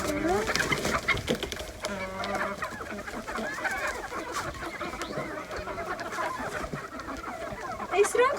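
A hen clucks repeatedly in short, choppy bursts, fairly close and moderately loud, with other fowl sounds mixed in.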